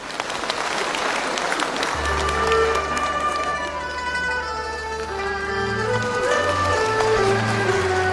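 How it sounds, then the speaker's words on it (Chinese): An audience applauds to welcome performers at a Yue opera showcase, a continuous patter of clapping that soon has sustained instrumental music tones rising over it. "掌声欢迎"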